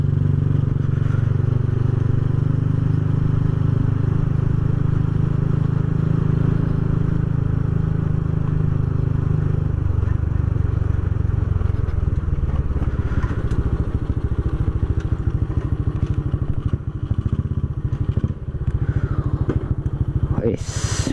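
Motorcycle engine on a night ride in Sukoharjo, Indonesia, a loud steady low rumble running the whole way, easing to a lower idle-like drone midway, with faint clatter and a brief sharp noise at the very end.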